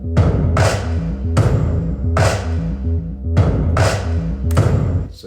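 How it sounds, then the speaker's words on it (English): A loud, steady drum groove of stomps, claps and drums over a sidechained bass that pumps and ducks with each beat, repeating in an even four-beat pattern with sharp clap hits. "Putting that together with our stomps, claps, and drums."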